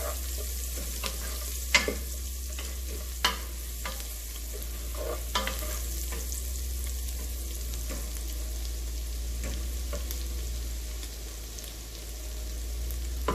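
Three cloves of fresh garlic fry steadily in a pan, a continuous sizzle broken by sharp scrapes and clicks as a utensil stirs them, with no talking.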